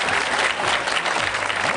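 Audience at a comedy show breaking into loud, sustained applause, a dense wash of clapping from many hands that carries steadily through the whole clip.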